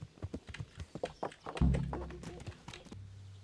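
A horse's hooves clip-clop in the medieval game Kingdom Come: Deliverance: quick, close hoof taps, then a heavy thud and a low rumble that fades into a steady hum.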